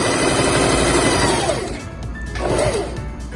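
A sewing machine stitches a boned bustier seam at close range with a loud, dense whirring run. It eases off briefly partway through, then surges again in a second burst.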